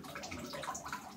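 Water draining from an emptied sink basin after shaving, a faint gurgling trickle with small bubbling swirls, close by and quiet, with no talk.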